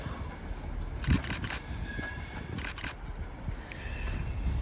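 A train pulling out of Carlisle station bound for London Euston, a steady low rumble with a few bursts of wheel and rail clatter, heard from the platform at moderate distance.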